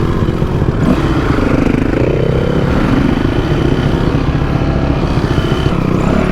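An enduro motorcycle engine running loud and close, a rough continuous clattering drone with rising and falling revs throughout, on an early-season trail ride.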